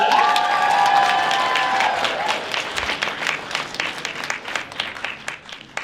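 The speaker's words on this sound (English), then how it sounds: "let's get a round of applause for Autumn Ivy" Audience at a costume contest at a gaming expo bursts into applause and cheers, loud at first with a brief whoop, then thinning into scattered clapping.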